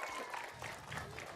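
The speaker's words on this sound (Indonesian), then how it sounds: "tepuk tangan dulu buat Badru." An audience at a river rescue operations discussion applauds, a steady wash of clapping that holds for the whole short moment with voices mixed in.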